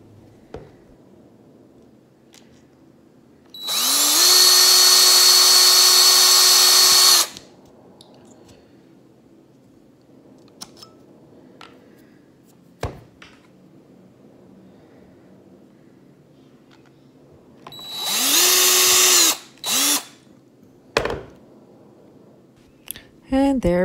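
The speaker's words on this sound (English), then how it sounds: "going to go ahead and drill some holes into the caps from the inside out" A power drill with a small bit bores holes into acorn caps from the inside out, giving two loud, close whirring bursts of about three seconds and two seconds. Quiet gaps with a few small clicks and taps separate them.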